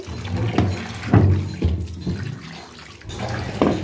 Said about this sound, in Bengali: মূলাগুলো একটু ভালোভাবে একটু ধুয়ে নিচ্ছি